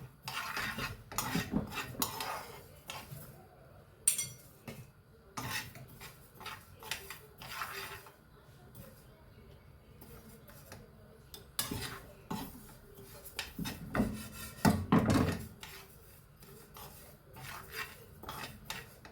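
Mixed nuts being lightly roasted for protein laddus clatter and scrape as a spoon stirs them in a metal pan, in irregular bursts of rattling and rubbing with quieter gaps between them.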